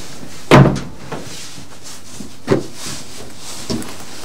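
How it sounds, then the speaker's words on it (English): A door is pushed shut with one loud close thud, followed by a few fainter knocks and bumps spread over the next seconds in a quiet room. "Perfect, close the door."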